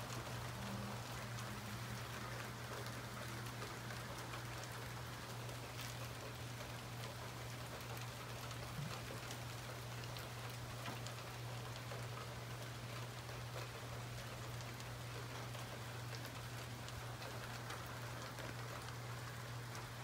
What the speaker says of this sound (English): Now it's hardly raining at all.